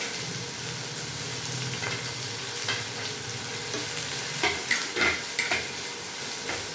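Onion, curry leaves and green chili fry in a pan with an even, close sizzle, broken near the end by a few sharp scrapes and clinks of a spoon being stirred.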